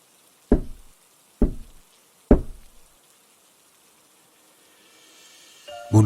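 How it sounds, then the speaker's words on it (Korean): Three sharp, hollow knocks on a door in a horror radio drama, evenly spaced and close, each decaying into silence, followed by a faint rising hiss and a brief louder sound at the end. "문을 두드리는 소리에"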